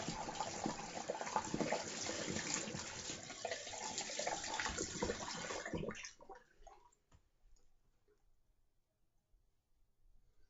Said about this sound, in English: Some cold water on the towel.